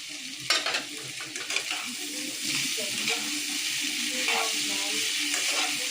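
Fish and pasta frying in a pan and being stirred, a steady sizzle broken by several sharp scraping and clinking stirring strokes near the start, close and moderately loud with no talk.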